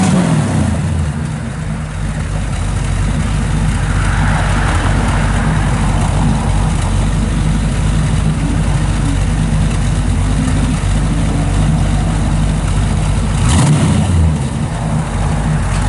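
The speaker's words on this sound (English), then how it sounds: "Good sounding little truck." The engine of a 1953 Chevrolet 3100 truck with dual exhaust rumbles loud and close, holding a deep, steady idle with mild revving swells and one brief change near the end.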